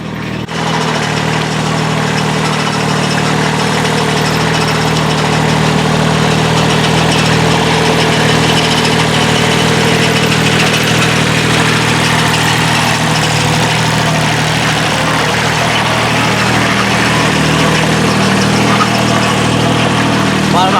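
A tractor engine runs at a steady idle nearby, a continuous low rumbling drone throughout, with people talking over it.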